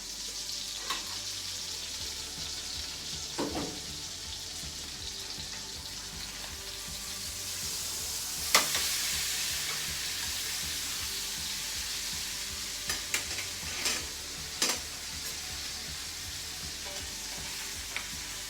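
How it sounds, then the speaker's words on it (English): Salmon sizzles steadily in a covered pan on the stove, a soft even frying hiss with a few sharper clinks and scrapes scattered through, at moderate distance and without talk. "Now it's time to flip our salmon."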